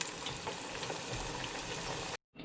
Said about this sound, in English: I am going to begin by frying my vegetables